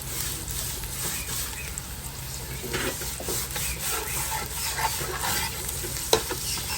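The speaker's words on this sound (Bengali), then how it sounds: "হালকা একটু ভাজবো বেশি ভাজবো না" Onions fry in a pan with red chilli powder and turmeric added, producing a steady low sizzle with soft scraping from occasional stirring and one sharp tap near the end.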